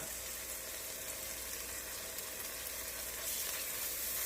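Ginger and garlic sizzle steadily in a hot frying pan for a sweet potato, coconut milk and lentil stew, a close, even hiss that holds for the whole stretch without any talk.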